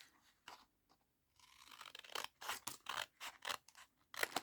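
Scissors cut through paper up close, a quiet series of crisp snips and crunchy slices that grow denser toward the end.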